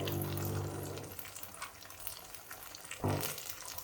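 Soaked raw rice batter is poured onto a well-heated pan and fizzes with a steady, close hiss, swelling briefly toward the end.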